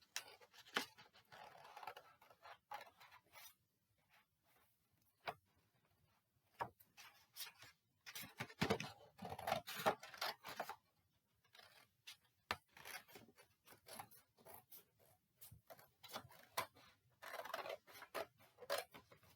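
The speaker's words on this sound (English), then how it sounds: "you're going to cut around the same shape for this one now." Scissors cut through card for a paper hat in a quiet room, giving a series of soft, irregular snips and rustles close to the microphone, with pauses between cuts and no talking.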